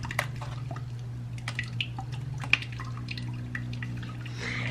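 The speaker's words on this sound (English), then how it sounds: "get your mesh strainer and pour" Cucumber lime agua fresca poured through a mesh strainer, giving a quiet run of scattered drips and small splashes over a steady low hum, close by and with no talking.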